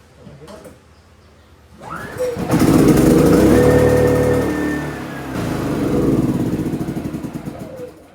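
A PK7500i generator starts with a manual recoil pull, then its engine runs loudly and steadily with a droning hum that dips and rises slightly before settling, close by and with no voices over it.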